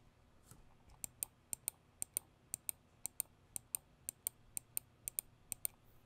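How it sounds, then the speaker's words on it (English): The notched scroll wheel of a Rapoo MT750s mouse clicks in short crisp ticks, close and isolated, coming in quick bursts of two or three with brief pauses between. "That is the clicking scroll wheel."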